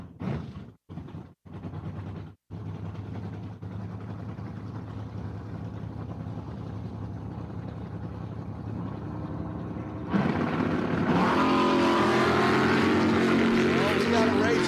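Drag racing at Empire Dragway, a 1975 Nova with Janssen power against a quick blue S10 pickup, makes a steady loud engine roar that surges louder and harsher near the end, with an announcer talking over it.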